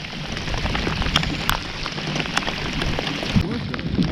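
Light rain pattering steadily on the water and a saltwater fishing kayak on a windy day near Gasparilla, Florida, a continuous close hiss with scattered drop taps and gusty rumble.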